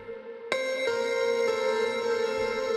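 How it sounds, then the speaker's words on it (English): Serum piano patch through a bit-crushed distortion downsample effect, a gritty, crunchy sustained chord struck sharply and held with a few faint re-strikes, bright and buzzy, with no voices. "the distortion downsample effect is being used to give it that kind of bit crushed effect"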